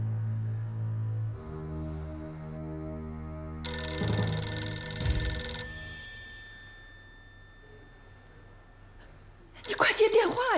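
A telephone bell rings in a tense indoor drama scene, its bright metallic ringing set against sustained tonal hum and background noise.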